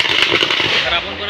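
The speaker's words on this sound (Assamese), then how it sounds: "বোমাবিলাক চাওকচোন ইফালে মাৰি আছে" Firecrackers and bombs burst at a Vijaya Dashami celebration marking the Ravan Vadh and the end of Durga Puja, giving a dense, loud crackling barrage that is continuous over a noisy outdoor crowd.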